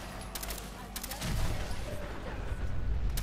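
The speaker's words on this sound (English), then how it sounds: "I shot a raider." Gunfire in the video game Fallout 4: a dense, rumbling burst of shots and explosions that thickens partway through, with a voice faintly mixed under the battle noise.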